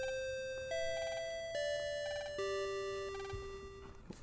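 School bell chime in the Mega Man Battle Network video game, a clear sequence of sustained electronic bell tones stepping through several pitches, ringing alone and fading at the end.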